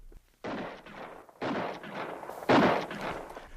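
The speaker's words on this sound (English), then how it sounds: "Suddenly I heard shots far ahead of me." Three gunshots sound far off in a narrated frontier story, each a booming burst with a drawn-out echoing tail, spaced about a second apart.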